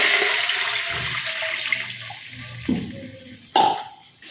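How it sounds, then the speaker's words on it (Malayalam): Half a litre of water is poured into a hot pan used to roast cashews for sweet milk kozhukatta, making a rushing hiss and splash that comes in a few surges. "ചൂടായ പാനിലേക്ക് ഞാനൊരു 1/2 ലിറ്റർ വെള്ളം ഒഴിക്കുന്നുണ്ട്."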